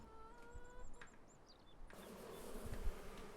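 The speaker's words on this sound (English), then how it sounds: "So we've got more bees in." Bees buzz in short faint passes in a quiet outdoor setting, with a few soft thumps nearby and a broadband noise rising partway through.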